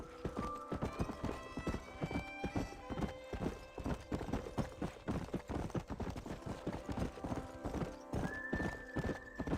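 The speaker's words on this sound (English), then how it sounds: "essa parte de andar de cavalo é muito chata" Horse hooves clip-clop steadily in a fast, even rhythm while riding in the Red Dead Redemption video game, loud and close throughout, with a brief whinny and no talking.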